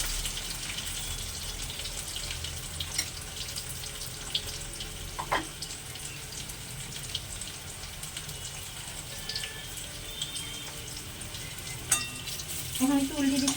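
Potatoes fry in oil for chicken biryani, a steady close sizzle running throughout, with a few brief clinks and scrapes of turning near the end.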